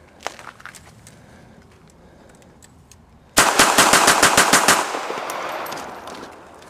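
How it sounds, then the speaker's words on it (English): A Bersa Thunder 380 pistol fired rapidly with MagTech ammunition, about a dozen sharp, loud shots in a quick burst close by, followed by lingering echo after quiet background. "We're going to just do a rapid-fire demonstration to show you how quick you can get rounds downrange."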